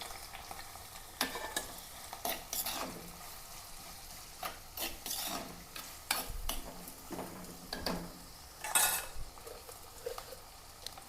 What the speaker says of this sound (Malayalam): ഇതിലേക്ക് ഒരു 3 സവാളയും ഒരു 4 പച്ചമുളകും മീഡിയം ടൈപ്പ് ഒരു കഷ്ണം ഇഞ്ചി, പിന്നെ വെളുത്തുള്ളി ഇട്ട് കൊടുക്കാം